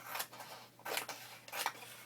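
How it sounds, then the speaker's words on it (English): Two or three quick snips of scissors cutting paper, close and crisp, separated by short pauses in a quiet room. "I'm using my scissors as opposed to using my straight edge paper cutter"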